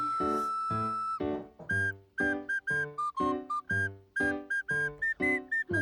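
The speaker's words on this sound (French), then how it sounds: "On entend son petit nez qui siffle" A pet's small nose whistling, a string of short, high, breathy whistles in a fairly regular rhythm, close and clear with no talking over it.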